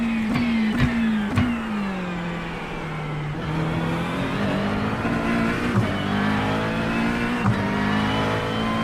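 A Mustang GT3 race car in iRacing, running at Sebring, roars close and loud with a sustained engine note that drops and climbs through gear changes and is punctuated by sharp shift cracks.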